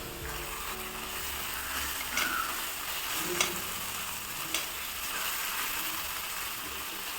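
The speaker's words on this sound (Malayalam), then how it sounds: "എന്നിട്ട് നല്ലപോലെ ഒന്ന് ഇളക്കി കൊടുക്കുക" Turmeric, coriander, chili and garam masala powders fry in a pan while being stirred, giving a steady sizzle with a few faint scraping strokes of the spoon.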